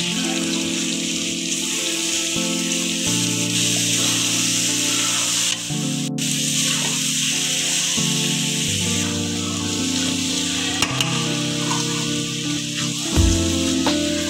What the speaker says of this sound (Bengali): চালটা আমি কিছুক্ষণ নেড়ে নেব।